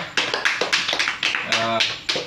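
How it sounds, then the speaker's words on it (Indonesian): A group applauds the candidates at a student election for chair of a semester-holiday committee, with claps falling in quick rhythmic bursts, close and fairly loud, and a voice briefly rising through the middle. "Kasih tepuk tangan lagi untuk mereka"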